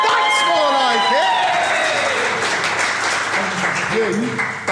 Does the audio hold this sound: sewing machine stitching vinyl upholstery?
no